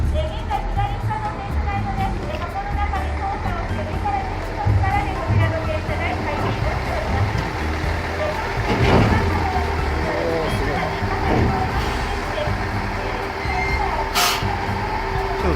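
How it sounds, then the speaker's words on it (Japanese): Railway turntable at Tenryu-Futamata Station rotating with a train on it, a steady mechanical hum and low machinery drone with occasional clanks and a sustained tone, under outdoor crowd chatter and voices. "転車台の開店と、そして電車の、機械音お楽しみください。"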